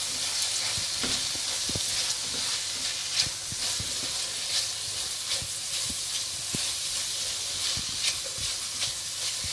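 Carrots stir-frying in a pan for chicken chow mein, a loud continuous hissing sizzle with scattered clicks and scrapes of a stirring utensil, close up and without talk.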